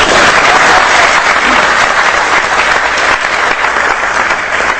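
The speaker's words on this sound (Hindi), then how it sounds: "आप मेरी गलती माफ करें और मेरे लिए ताली बजा दें।" An audience applauds loudly and steadily, a dense wash of many clapping hands that continues without a break.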